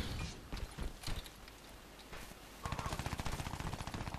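Rapid automatic gunfire from the Crysis 3 beta shooter, a dense run of sharp repeated shots that grows steadier and louder toward the end, with scattered bursts before it.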